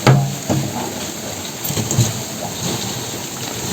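A dense, steady hiss of many crickets rustling on egg-crate trays during harvest, like rain falling on a surface, continuous throughout with a few soft knocks.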